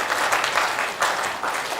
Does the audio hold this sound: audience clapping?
yes